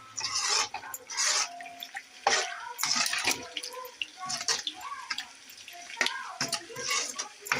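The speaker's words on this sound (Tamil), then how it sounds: "இப்போ தேவையான அளவுக்கு தண்ணி ஊற்றி நல்லா ஒரு 10 நிமிஷம் மூடி போட்டு சிம்மிலே வச்சு" Water splashing and gurgling as it is poured over meat in a cooking pot, uneven and close, with a voice talking over it.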